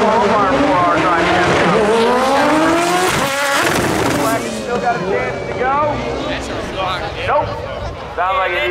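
Drag race cars at Maryland International Raceway roar down the strip during a World Cup Finals qualifier, loud engines rising and falling in pitch with shifting revs, crowd and commentary voices mixed in.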